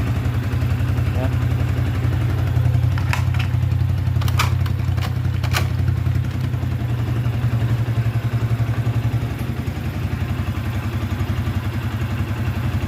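A Yamaha Vixion motorcycle engine runs steadily after a kick-start on a cold morning, giving a loud, continuous low idle with a few sharp mechanical clicks partway through.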